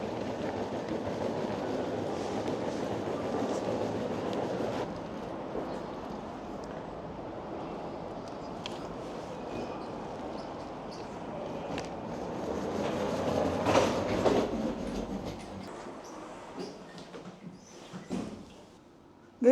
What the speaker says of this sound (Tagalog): Guys, may train na doon.